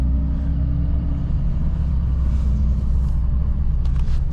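A vehicle drives over frozen farm ground, giving a constant heavy low rumble up close. A faint rattle sounds near the end, and nobody speaks.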